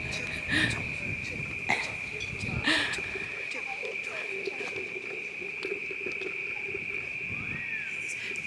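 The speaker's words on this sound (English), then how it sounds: "Oh, listen, the crickets or cicadas." Steady high-pitched chorus of crickets or cicadas droning continuously through a rainforest evening at O'Reilly's Rainforest Retreat, with other faint insect and frog calls and occasional brief voices nearby.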